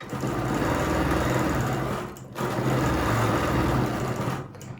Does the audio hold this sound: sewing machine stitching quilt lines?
yes